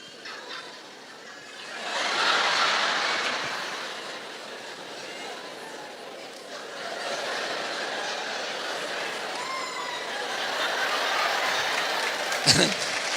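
A church congregation claps in a sustained, fairly loud wash that swells, eases and swells again, with a voice speaking over it and a sharp knock near the end.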